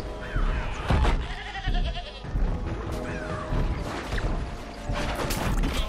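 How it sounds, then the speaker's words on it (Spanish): A goat bleats amid busy Plants vs Zombies Garden Warfare 2 gameplay, repeated nasal cries layered over constant loud crashes and mechanical effects. "me convirtieron en una cabra"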